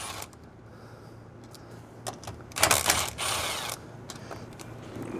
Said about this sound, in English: take your 10mm socket and loosen these 2 bolts right here